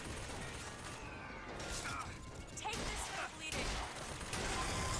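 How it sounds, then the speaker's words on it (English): Gunfire aimed at the player in a video game, a busy clatter of rapid shots and impacts that keeps going with little pause, over a noisy background mix. "Who's shooting at me now?"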